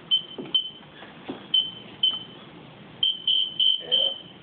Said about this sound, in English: Here's your alarm system.